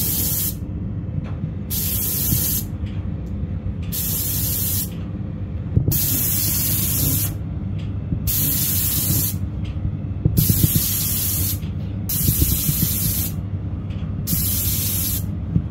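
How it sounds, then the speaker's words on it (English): An airless paint sprayer fitted with a 310 tip lays down thick paint in repeated bursts, each a loud close hiss lasting a second or two, broken by short gaps, with no voices. "We're using a 310 tip. We're using the airless sprayer."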